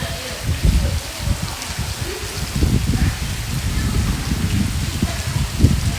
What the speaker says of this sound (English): Look at all that rain out there. It's still raining. It is coming down out there.